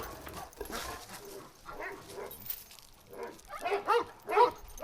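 Kangal dogs at a yard kept with about fifteen or sixteen dogs give off scattered barks and yips, moderately near, in irregular bursts that build toward the end, with faint human voices in the background.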